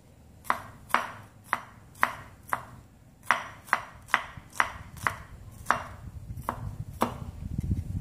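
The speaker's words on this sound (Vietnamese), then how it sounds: "Các bạn băm cho mình cái phần hành này ra nhé." A knife mincing shallots and aromatic onions on a cutting board for stir-fried glass noodles with bean sprouts makes about a dozen crisp, close chops in an irregular rhythm, alone without any voices.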